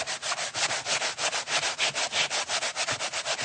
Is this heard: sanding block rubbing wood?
yes